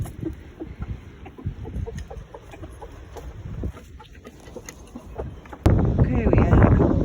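Chickens in a winter coop after a snowstorm, clucking softly and intermittently at close range, with a louder burst of rustling and clucking near the end and a person talking at times.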